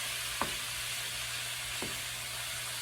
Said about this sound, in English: my pan is nice and hot, it's sizzling